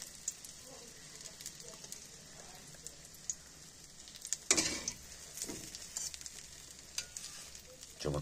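Egg frying in oil in a pan, a low steady sizzle with scattered crackles and pops and a louder spatter burst midway, close and fairly quiet.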